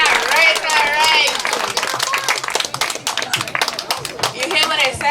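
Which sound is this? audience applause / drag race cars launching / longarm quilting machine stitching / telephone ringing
audience applause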